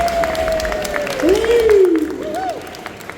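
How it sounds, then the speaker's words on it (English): Applause from a convention panel audience at San Diego RocketCon greeting the Mario voice actors, a crowd clapping under a host's voice and a swooping tonal sound effect. "Give a round of applause to the Mario voice actors right here,"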